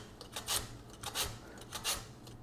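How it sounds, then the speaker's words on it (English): A potato is rubbed against the slicing side of a cheese grater in quick, repeated rasping strokes, about six scrapes over a couple of seconds, close and fairly quiet. "One of the options to slice our potato is to use basically the grater that we usually use for the cheese"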